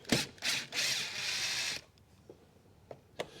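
Screws on the air filter housing of a 2010 Ford S-Max 2.0 TDCi diesel being loosened, with several short whirring bursts of a power driver followed by a few small, close clicks and taps.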